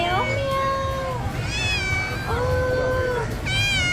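A cat meows repeatedly, clear and close, several drawn-out rising and falling calls over a steady low background murmur.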